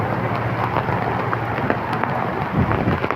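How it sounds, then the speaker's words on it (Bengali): Heavy thunderstorm rain pours down amid strong gusty wind, a loud, dense wash of falling water with rumbling low undertones and occasional sharper splats, continuous with no voices. "প্রচুর ঝড় বৃষ্টি শুরু হলো আবার"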